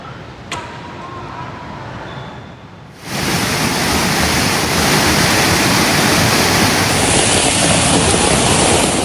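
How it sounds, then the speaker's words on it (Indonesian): Floodwater of the Bedadung River in Jember, East Java rushes loudly in a dense, continuous roar, swelling after a brief quieter opening and holding steady and close to the end. "banjir besar Sungai Bedadung di Jember, Jawa Timur merusak jembatan dan menghanyutkan atap rumah warga"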